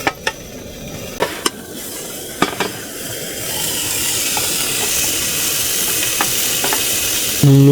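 Food sizzles and fries steadily on a small, lightweight portable cooker, with a few sharp clicks and taps early on before the frying hiss swells and holds close and loud to the end.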